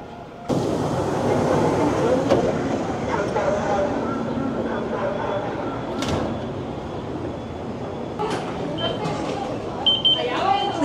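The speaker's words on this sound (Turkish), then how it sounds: "Genelde burada da trenler bayağı sessiz." Inside a subway train in South Korea, a steady low rumble of the moving carriage runs throughout, fairly subdued, with a few brief clicks and rattles; a voice talks over it.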